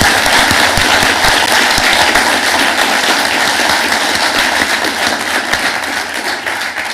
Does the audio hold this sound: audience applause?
yes